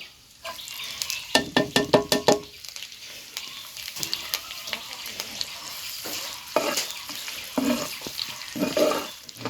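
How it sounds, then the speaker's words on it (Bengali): Chopped green chillies and onion hit hot mustard oil in a pan, bringing a close sizzle broken by bursts of scraping and stirring, the spatula strokes coming in quick rhythmic clusters with quieter frying between. "গরম তেলে কুচানো কাঁচামরিচ আর পেঁয়াজ আমি পুরোটাই দিয়ে দেবো"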